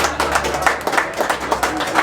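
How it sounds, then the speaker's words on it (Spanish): Crowd applause at a press conference in a bar in Aguascalientes, a brisk patter of many hands clapping together, dense and fairly close, lasting a couple of seconds. "un aplauso para ellos"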